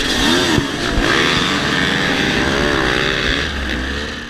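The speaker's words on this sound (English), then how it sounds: "Alright, dead engine start." Dirt bike engines at the dead-engine start of an off-road hare scramble race with a 25-rider class, a dense, loud, continuous roar of many two-stroke and four-stroke motors revving together close by.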